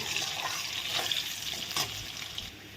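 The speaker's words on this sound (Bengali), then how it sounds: "লবণ দিয়ে ভেজে নেব" Papaya being fried in a pan with salt, giving a steady, fairly quiet hiss of sizzling with faint stirring noises and no talk.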